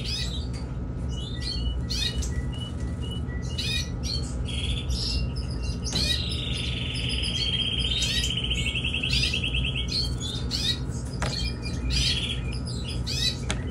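Canary chicks chirp while being hand-fed, a steady run of high, rapid begging cheeps and squeaks, close up over a constant low background hum.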